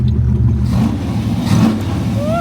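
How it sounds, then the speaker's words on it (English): A car with a roller cam upgrade after engine failure revs under acceleration, its mid-pitched engine note rough and breaking up slightly, close and steady with a faint voice near the end. "As y'all can hear right here in the clip, it's breaking up a little bit on acceleration"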